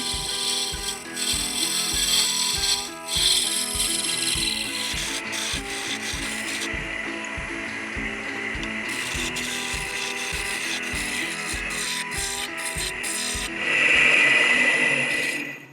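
A wooden Christmas ornament is shaped on a lathe with a carbide tool, giving a continuous close scraping rub with a rapid rhythmic ticking beneath and a brief louder, brighter stretch near the end.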